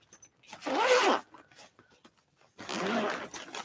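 A zippered bag being unzipped in two separate pulls, each a dry rasping run lasting about half a second to a second, close and clear with quiet pauses between.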